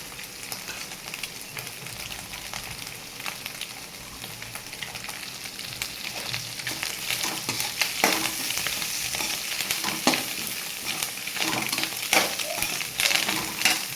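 Curry leaves crackle and sizzle in hot oil for egg fried rice, with steady frying hiss and intermittent stirring scrapes that grow busier and louder toward the end.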